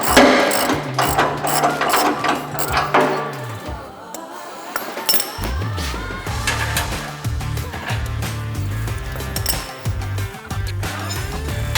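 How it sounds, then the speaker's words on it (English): A ratchet wrench clicks rapidly as bolts are tightened back through on a MUSKOX 24-series snowblower, close and loud bursts of rattling pawl clicks separated by brief pauses, with metallic clinks between strokes. "I take my ratchet to re-ratchet these bolts back through."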